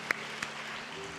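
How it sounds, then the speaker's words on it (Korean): A church congregation applauds during a Sunday afternoon service, producing a steady wash of clapping with a couple of sharper claps standing out near the start. "박수 한 번 더 보내주시고"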